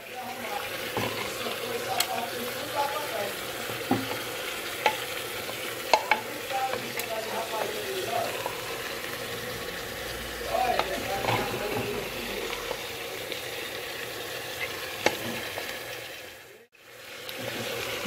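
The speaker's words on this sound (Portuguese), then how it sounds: "Agora eu vou dar só uma fritadinha aqui." Cooked beans fry and sauté in a pan, a steady crackling sizzle with scattered stirring scrapes and clinks at close range throughout.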